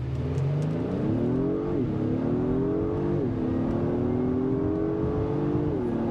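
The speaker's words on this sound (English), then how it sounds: "see how this vehicle accelerates just in a little bit" A 2023 Acura MDX Type S SUV accelerating hard from a brake-held launch, its engine note climbing steadily through several upshifts with brief dips between gears, heard continuously and loud from inside the cabin.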